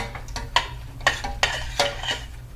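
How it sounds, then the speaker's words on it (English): Food is stirred in a pan at close range, with about five or six distinct scraping, clattering strokes of a utensil against the metal and a faint background hum. "stir that around. And so you guys can see the action here."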